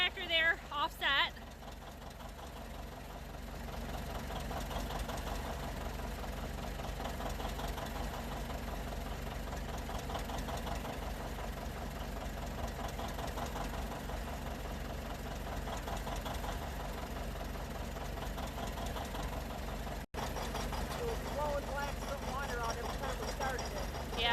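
A rebuilt John Deere two-cylinder tractor engine runs outdoors in winter after a belt start, giving a steady close mechanical chugging and knocking throughout, with a brief clatter at the start.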